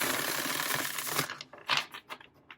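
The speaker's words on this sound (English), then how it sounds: "Let's see if we can riffle shuffle this." A tarot card deck is riffle shuffled, a dense fluttering rush of cards that stops abruptly, followed by a few soft taps and slaps of the cards being squared.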